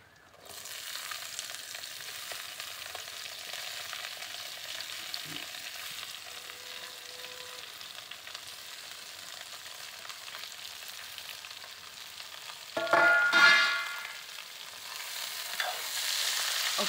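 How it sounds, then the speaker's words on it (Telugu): Chopped ivy gourd (dondakaya) pieces fry in hot oil with a steady low sizzle, then a louder burst of scraping and clatter comes near the end as the pan is stirred. "కట్ చేసుకున్న దొండకాయ ముక్కల్ని ఇందులో వేసేయాలి"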